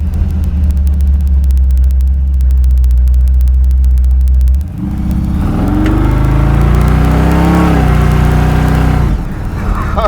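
A 1933 Ford pickup hot rod engine is revved at about quarter throttle, a loud, close, deep rumble that drops briefly and then rises into a strong rev lasting several seconds.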